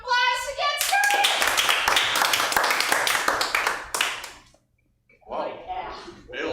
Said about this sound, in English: let's give us a round of applause to get started